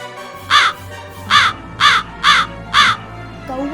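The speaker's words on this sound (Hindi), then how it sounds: "ये कौवे इतनी तेज बिना रुके काव काव क्यों कर रही है?" Five loud, harsh crow caws ring out one after another at a steady pace, with a low hum underneath and a brief faint chirp at the end.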